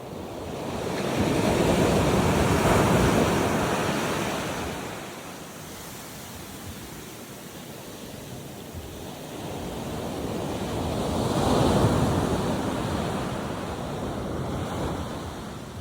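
Rough ocean surf breaks on the beach at Grand Turk with a loud, close roar that swells and fades in long surges, with a strong wash of wind over it and no voices.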